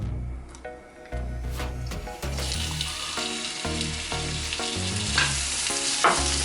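Garlic and onion sizzle in hot coconut oil, a steady close frying hiss that grows louder once the food hits the pan, with stirring scrapes and light clinks over a musical backing.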